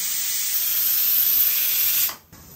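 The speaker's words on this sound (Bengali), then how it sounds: "খিচুড়ি রান্না কিন্তু হচ্ছে, প্রেসার কুকারে দেওয়া হয়েছে।" A pressure cooker on the stove while khichuri cooks, its whistle and steam blasting as a loud continuous hiss that cuts off abruptly near the end.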